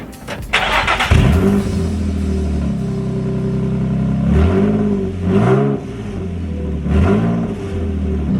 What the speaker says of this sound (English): the inside of the car is always super noisy